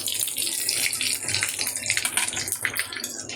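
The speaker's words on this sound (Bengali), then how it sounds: "তেলটা গরম হয়ে গেছে, ফোড়নটা দিয়ে দিচ্ছি" Spice tempering hitting hot oil in a wok, a loud, sudden burst of spluttering sizzle and crackle that stays intense and close throughout the short moment, with no voices.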